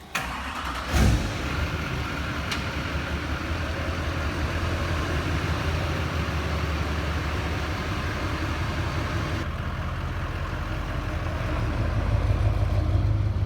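Duramax diesel pickup being prepped as a pull truck, starting with a brief crank and thump, then running continuously close by as it pulls away, engine noise steady and rising toward the end.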